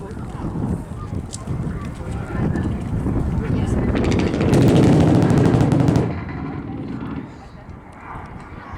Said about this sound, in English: a strafing run from left to right